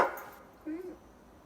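Dogs give a short yip and a bark nearby, brief and fairly faint, with a soft whimpering tone trailing off in a quiet indoor room.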